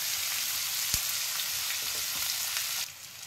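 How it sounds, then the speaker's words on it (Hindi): Chopped onions frying in a pan for jackfruit curry, a steady close sizzle with a faint stir-like tap, dropping slightly in level near the end. "और ये कटे हुए प्याज, और प्याज को हम अच्छे से पिंक होने तक पका लेंगे।"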